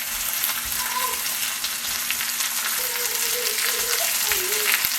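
Coffee-rubbed venison searing in a cast iron pan at high heat, a loud, steady crackling sizzle with sharp pops, close up, with a faint hum and a few soft tonal sounds in the background.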